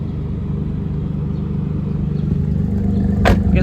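Suzuki Cappuccino engine idling after a throttle position sensor fix, a steady low, close rumble with an even throb and a brief sharp click near the end.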